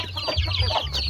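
A small group of month-old chicks cluck and peep close by in quick, overlapping bursts, loud and lively with no voices.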